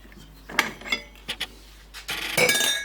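The kneading arm is removed from a stand mixer after sourdough bread dough has been kneaded. Close metallic clinks, scrapes and rubbing sounds come in short bursts, with no one speaking.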